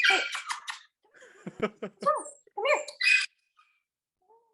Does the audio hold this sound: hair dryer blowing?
no